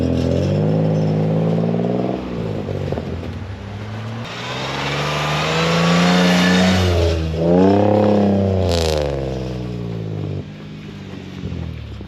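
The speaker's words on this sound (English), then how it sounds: "Get the rev all the way up." A Toyota 4Runner engine revs hard while stuck in snow, its loud close drone climbing and dropping in long sweeps, easing off and then surging again with some clatter.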